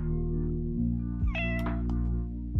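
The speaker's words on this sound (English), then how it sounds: "Oh, it meowed." A cat meows in the video game Tale of Evil, a single drawn-out meow with rising and falling pitch over steady game music, fairly close and clear.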